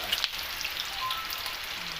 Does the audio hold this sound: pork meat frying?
yes